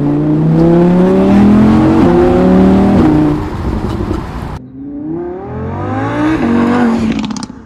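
An Audi R8 Spyder engine revs hard and climbs through gears, pitch rising repeatedly, with a brief shift break midway; loud and close.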